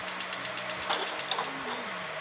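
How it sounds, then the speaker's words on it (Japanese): Kitchen range hood ventilation fan running steadily during cooking, a continuous mid-level whir with a rapid rhythmic ticking rattle over the first part, then a smoother hum. "ちょっと換気扇うるさいかもしれないんだけど"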